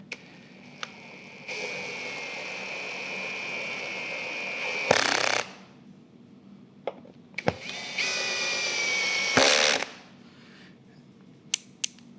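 A cordless power drill driving metal screws into plastic and wood while fitting a bidet toilet seat, two sustained whirring runs each ending in a loud burst as the clutch slips, with sharp clicks between them.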